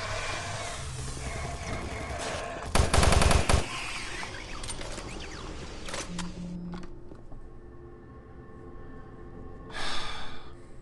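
Bursts of rapid gunfire from a weapon in Doom 3, a loud rattling volley near the middle and another shorter burst near the end, set against dark game ambience and scattered effects.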